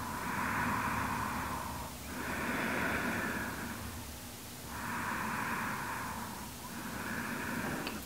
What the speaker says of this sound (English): Keep breathing through the nose, just for a few more breaths.